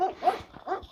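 A dog barks outdoors, a few short yelping barks with a whiny, whimpering edge, fairly close and loud, with no talk over them.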